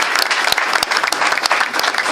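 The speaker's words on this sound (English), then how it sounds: "So please, a round of applause for them." A school sports gathering breaks into brisk applause, a crowd clapping steadily and close, with a few sharper individual claps standing out through the short burst.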